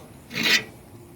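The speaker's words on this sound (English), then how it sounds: "We're going to break this down with the" A chisel scrapes a scrap pool heater contact in one short, harsh rasp, close and fairly loud, then fades to quiet.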